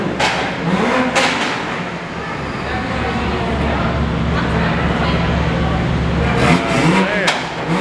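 Car engines rumble and rev at a night-time car meet, with rising engine sweeps over a constant low drone and people chatting nearby.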